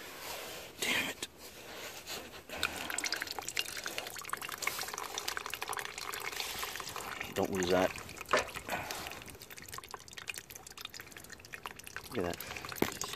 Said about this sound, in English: Look at that. It's dripping in the back there.